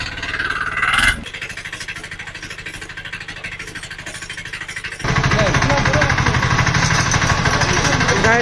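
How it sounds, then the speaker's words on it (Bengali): A 7 HP diesel mini hand power tiller engine runs steadily at close range with a fast, hard chugging beat, growing louder and harsher as it revs up partway through. "গাড়ির সাউন্ড শোনেন দর্শক আপনারা"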